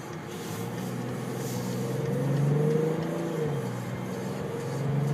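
A 2012 BMW X5 xDrive35d diesel SUV accelerates at about half throttle, heard from inside as a steady low engine drone that swells gradually with road noise, with no speech.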